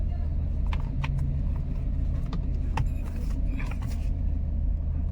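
A Mercedes-Benz W204/W212 engine with a misfire traced to the number 4 ignition coil rumbles low and uneven as it is revved, fairly quiet and close, while someone speaks over it.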